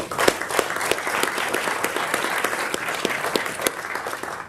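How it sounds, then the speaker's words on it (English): A round of applause from the audience at a town hall service recognition ceremony, steady dense clapping with sharp individual claps standing out, held at an even level across the whole stretch with no voices. "Please join me in a round of applause."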